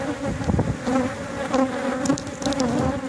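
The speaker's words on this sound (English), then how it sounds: "I think the bees are too happy about me doing that." Honeybees drone steadily around an opened backyard hive during a frame inspection, a dense continuous buzz with wavering pitch close by, occasional louder passes of individual bees, no talking.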